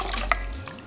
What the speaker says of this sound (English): just add another 2 quarts of cool water